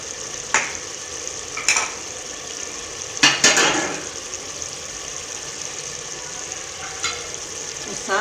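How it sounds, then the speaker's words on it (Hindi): Fried onions, korma masala and cardamom are stirred and fried for beef korma, with a steady sizzle, several loud scraping and clattering strokes of a spoon against the pot, and a low background hum. "तो अच्छी तरह भूनेंगे और साथ ही मसाले डालेंगे।"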